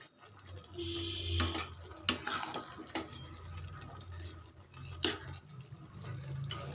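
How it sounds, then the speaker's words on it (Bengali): A pan of banana flower ghonto is stirred with a utensil, giving wet, squelching movement and several sharp clinks of metal against the pan over a low background hum, with no talking. "ভালো করে একটু নেড়ে খেটে দেব"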